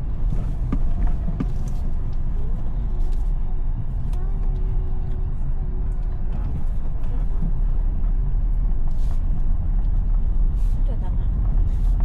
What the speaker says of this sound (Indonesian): Ini kecepatan hampir 0, kita injak kopling gigi 1, berangkat lagi.